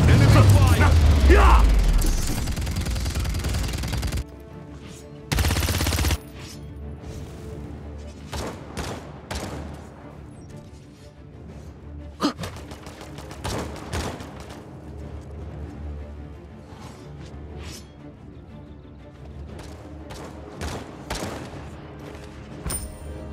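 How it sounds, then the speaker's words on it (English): Enemy gunfire in the Paladins PC shooter, bursts of shots crackling through a busy game mix after a loud opening blast, with someone talking over the action. "Enemy fire."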